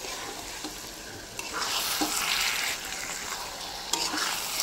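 Meat being stir-fried and browned in a pan, a steady loud sizzle with scraping stirs that swell and fade, no voices.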